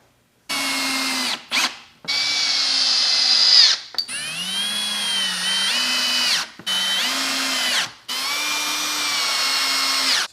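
A power drill drives wood screws into the underside of a height-adjustable desk, with several loud, sustained whirring bursts that rise in pitch and are broken by short pauses.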